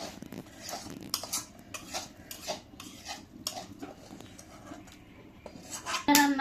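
Pots and utensils clink and scrape during home cooking, with a spoon stirring in a pot in a series of short, uneven knocks and rattles, fairly close, with no voices.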